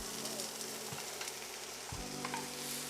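Vegetables frying in hot olive oil over medium heat, a faint steady sizzle with a couple of soft thumps and clinks, no voice.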